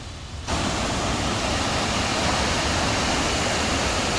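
Pulhapanzak waterfall in Honduras pours in a steady, dense roar of falling water, quieter for the first half second and then full and unbroken throughout, with no voices.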